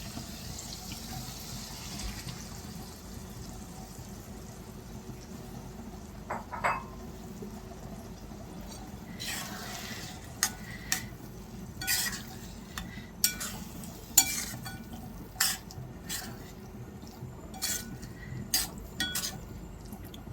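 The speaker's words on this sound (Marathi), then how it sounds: "आता आपण या मसाल्यामध्ये आपला शिजवलेला मसूर घालून घेऊयात." Soft stirring and scraping in a pot as cooked masoor lentils are added to masala, with a few spoon clinks and a faint steady kitchen hiss underneath; no talking.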